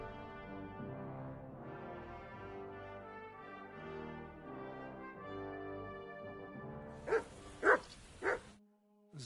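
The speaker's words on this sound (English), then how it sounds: "Good doggy." A dog in the Kingdom Come: Deliverance II video game gives three sharp barks in quick succession, loud and close, following a stretch of sustained tonal game music.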